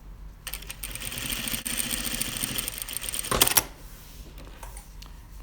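A sewing machine runs steadily, stitching a pocket flap onto a jetted pocket with a back pocket bag, a continuous mechanical whir for about three seconds that swells briefly before stopping, leaving quiet handling noise with no talk.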